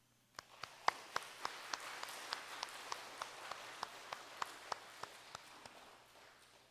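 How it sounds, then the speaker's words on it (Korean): A slow, steady rhythm of sharp claps during a church service, roughly evenly spaced and fairly faint over a quiet room tone, as a congregation welcomes new members. "우리의 식구들 환영의 박수로 맞이하도록 하겠습니다"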